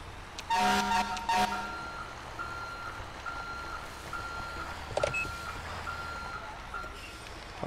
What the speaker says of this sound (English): Alright, tow truck is here.